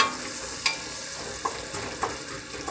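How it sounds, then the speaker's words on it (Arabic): Onion frying in oil left over from octopus, with a little olive oil added, makes a soft, continuous sizzle with a few light clicks of stirring. "نقليو شويه البصله"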